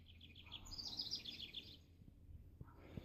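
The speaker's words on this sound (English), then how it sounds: "Listen to the birds." Birds chirp and trill in quick high-pitched bursts against a low outdoor rumble, with a few soft knocks near the end.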